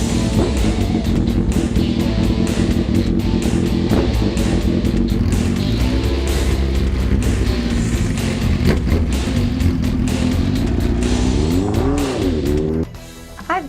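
A custom motorcycle fitted with TVs and speakers rides past, its engine roaring loud and steady and revving with rising and falling pitch over nearly fourteen seconds before cutting off abruptly near the end.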